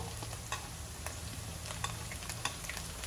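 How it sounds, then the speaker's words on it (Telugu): Finely chopped onions with half-fried potatoes for Maharashtrian kanda poha sizzle steadily in a pan, with a few sharp scrapes and stirring clinks over a dense, close, low frying hiss; no talking. "ఇప్పుడు మనము ఉల్లిపాయలు వేసుకుందాము. సన్నగా తరిగిన ఉల్లిపాయలు వేసుకుందాము."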